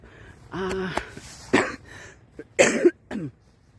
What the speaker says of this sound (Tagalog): ginaubo-ubo na naman ako